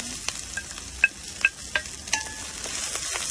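Vegetables for pinakbet sautéing in a pan: a faint, steady sizzle with a handful of quick utensil taps and scrapes, fairly quiet and close, with no talking.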